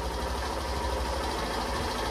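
A BS6 motorcycle idles after being started during a fuel pump repair, giving a loud, steady, low engine rumble that runs evenly throughout with no talking.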